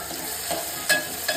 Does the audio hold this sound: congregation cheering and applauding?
no